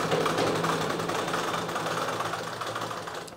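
Sewing machine stitching a straight seam on a Sabyasachi-style blouse, a steady continuous mechanical whir running close and even throughout with no talk.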